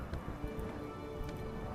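Rain falling in the colony-building video game RimWorld, a steady soft patter of raindrops on surfaces, continuous and even across the short stretch with no voices over it.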